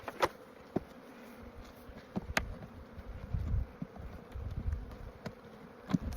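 Honey bees buzz faintly around an opened hive during an early-season check, their low hum steady beneath a few sharp clicks and knocks of the hive boxes.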